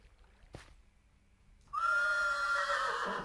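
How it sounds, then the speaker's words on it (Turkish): Minecraft horse gives a loud, drawn-out whinny that starts abruptly after a brief click and near silence, close and alone with no talking. "Oğlum ne biçim ses çıkarıyor bu atlar böyle?"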